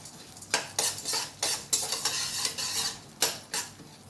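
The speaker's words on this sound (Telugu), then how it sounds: "ఒక టేబుల్ స్పూన్ మినపగుళ్ళు కొంచెం పచ్చిపప్పు వేసుకొని వేయించుకోవాలి" Urad dal and chana dal frying in a pan, with repeated sharp scraping strokes from a spoon stirring the lentils at a steady, uneven rhythm over a soft background sizzle; no talking.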